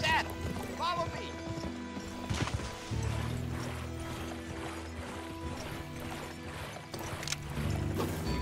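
Horse hooves clip-clopping in the western video game GUN, with rhythmic hoofbeats and an occasional whinny under game music, while a character speaks over it.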